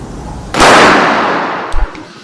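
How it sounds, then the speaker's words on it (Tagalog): A single loud gunshot from a .45 caliber 1911 pistol during zeroing practice at a shooting range, a sharp close blast with a long decaying tail and a faint thump after. "So putok tayo ulit."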